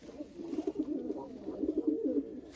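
Pigeons cooing in a coop, a continuous run of soft, throaty, rolling coos from several birds overlapping close by, with no talk.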